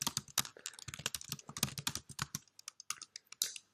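Rapid clicking keystrokes on a computer keyboard while code is typed, close and clear in irregular quick bursts with brief pauses, no talking.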